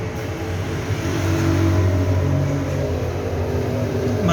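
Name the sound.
Belarus 510 tractor engine running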